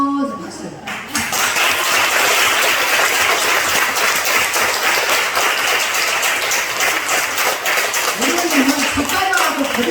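A church congregation at a Sunday worship service claps together in a sustained, dense burst of applause, with brief voices at the start and end.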